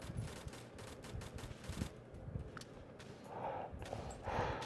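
Gunfire from the mobile war game Warfriends rattles in rapid bursts at fairly low volume. Scattered shots and clatter run throughout, with no voice over them.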